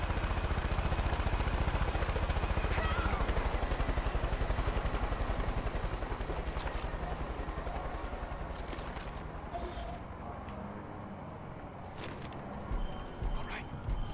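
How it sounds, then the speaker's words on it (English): Helicopter in the video game Far Cry 5, a steady low rotor chop and engine drone filling the scene, gradually easing slightly, with scattered game effects and people talking over it. "Oh, they got a chopper here?"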